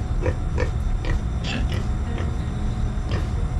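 Repeated short grunts from a pig, several in a loose irregular series, close by over a steady low background hum.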